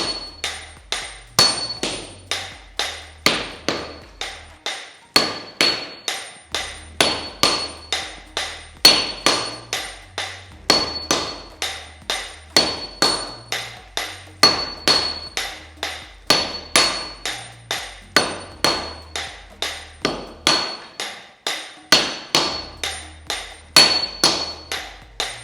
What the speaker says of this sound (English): 2 people will hit the steel hard to stretch it